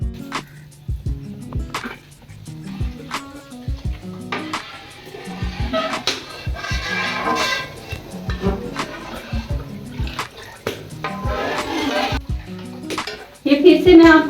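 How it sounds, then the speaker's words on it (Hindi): A spoon stirs thick kadhi in a metal pot, cooked village style, making repeated rhythmic scraping and clinking strokes against the pot, with a voice talking over parts of it. "मुसलसल इसमें चम्मच हिलाते रहें ताकि ये आपस में अच्छी तरह से मिक्स हो जाए"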